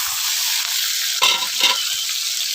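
Tomato pieces frying in hot oil alongside blackened dried red chillies while being cooked for egg posto, giving a loud, continuous sizzle with two bursts of scraping and stirring midway.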